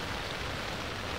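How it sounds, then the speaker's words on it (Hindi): Heavy mountain rain pours steadily on a trek near Kausarnag Lake, a dense, even hiss of falling water with no breaks and no voices. "बारिश बहुत हो रही है"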